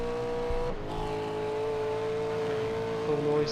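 A V8 Supercar engine howls at high revs during a race in New Zealand, with a steady, sharp whine, dipping briefly as it shifts, then holding loud and close throughout.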